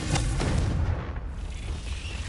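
Confringo fire-blast spell cast in Hogwarts Legacy: a deep, rumbling explosive boom with a low-end swell that hangs on and slowly fades, loud and close with no talk.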